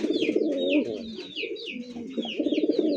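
A fancy pink-beaked Bombay pigeon coos in steady, throaty rolling phrases close by, while other birds chirp higher up in the background.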